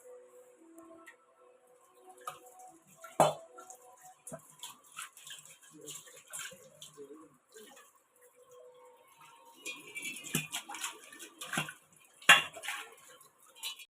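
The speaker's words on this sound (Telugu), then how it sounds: "ఈరోజు డిషెస్ అయితే వాష్ చేస్తున్నాను" Dishes being washed in a home kitchen sink, with intermittent clinks of pots, plates and cutlery, a few sharp knocks and faint trickling water, moderately close but fairly quiet overall.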